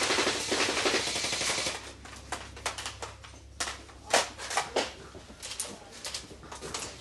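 Airsoft guns firing during an indoor close-quarters game, with a dense burst of rapid full-auto shots followed by scattered single cracks and clatter.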